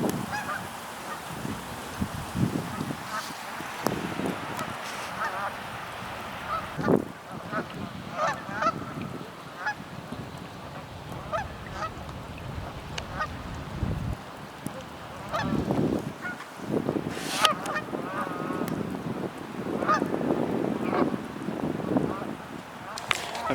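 Geese honk repeatedly across the scene, a noisy overlapping flock with wind and faint talk mixed in, during a snowstorm in New Jersey.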